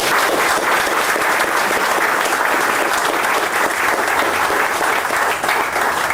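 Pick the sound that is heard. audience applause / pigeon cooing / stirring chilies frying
audience applause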